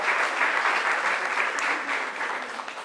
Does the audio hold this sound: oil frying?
no